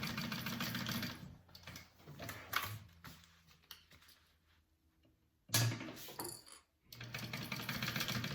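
A sewing machine stitches a pouch lining seam at a half-inch allowance, running in close bursts of steady mechanical whirring with quieter pauses between them.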